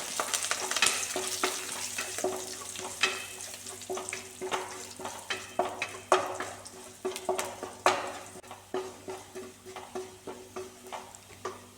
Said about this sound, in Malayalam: ഒരു രണ്ട് മിനിറ്റ് സമയം വരെ നമുക്ക് ഇതിനെ ഒന്ന് ഇളക്കിയെടുക്കാം